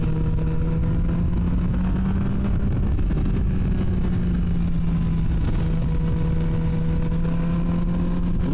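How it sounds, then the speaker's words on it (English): A Triumph Tiger 660 Sport motorcycle engine hums steadily along twisty roads, its pitch sliding up and down as the rider works through the bends, with a constant rush of wind beneath. "Look at Bob hustling through the twisties"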